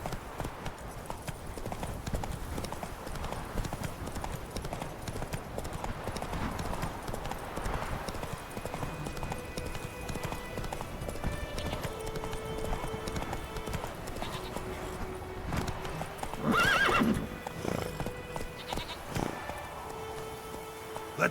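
Geralt's horse Roach in The Witcher 3 trots and gallops with brisk, even clip-clopping hooves under soft game music, joined by faint speech and a short louder burst near the end.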